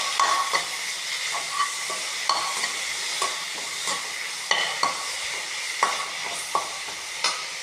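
Thoodhuvalai greens with a small amount of grated coconut sauté in a pan, a steady sizzle broken by regular, close scraping taps of a spoon stirring, with no voices.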